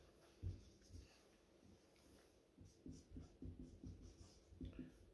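A lecturer writes the course title on a board in a lecture room, making quiet, irregular scratching and tapping strokes in short bursts, faint under the room's background hum.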